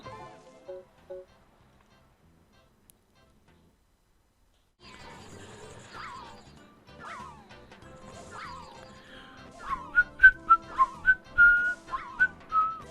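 A person whistles a tune during Pokemon Snap play: quiet at first, then sliding whistled notes, building to a run of loud, evenly spaced, clear tones near the end.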